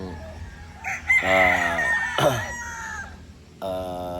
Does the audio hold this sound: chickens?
yes